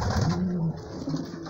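Pigeons in a pigeon loft with nests and eggs coo close by, making low, throaty, rolling calls in short repeated phrases.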